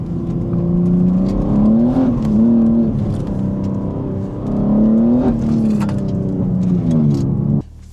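A BMW M3 engine revving while driving through city streets, close and loud from inside the car, with the pitch climbing and falling in repeated throttle pulls before cutting off abruptly near the end.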